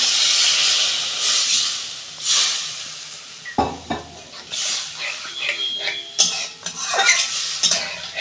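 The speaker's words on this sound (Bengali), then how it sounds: "মশলা আমার কষানো হয়ে গেছে তেল ছেড়ে গেছে আমি পরিমাণ মতো অল্প জল দেবো বেশি দেবো না" Water splashed into sizzling fried spice paste for an amudi fish curry, a loud hissing burst of steam settling into bubbling and metal spoon scrapes as it is stirred, close by.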